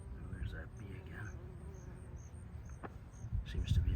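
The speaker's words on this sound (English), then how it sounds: "Oh, there's that bee again." A bee buzzes around a balcony tomato garden, a faint intermittent hum drifting near and away over quiet outdoor background, with a brief louder rustle near the end and no clear talk.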